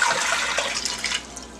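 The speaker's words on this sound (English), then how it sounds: "Place water inside the pot" Water gushes steadily into a cooking pot on a stove, a short, soft splashing pour with no talking.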